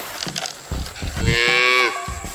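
A cow moos on a farm in one long, loud, drawn-out call, preceded by brief shuffling and background noise.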